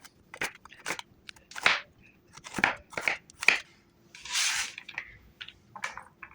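A knife chops carrots on a cutting board in a series of crisp, separate cuts with irregular spacing, close and fairly quiet against a silent background, with no talk.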